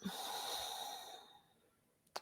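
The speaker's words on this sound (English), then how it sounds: "Breathing in and breathing out." One long, deep exhale during a relaxation breathing exercise, soft and close, fading gradually before a faint click at the end.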